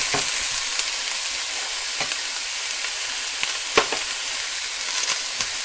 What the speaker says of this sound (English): we're going to add 3 minced garlic cloves and cook that